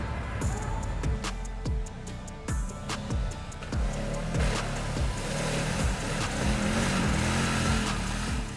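A Hisun ATV with four-wheel drive engaged drives over a hard off-road route, its engine droning steadily and close with repeated rising and falling revs and bumps throughout.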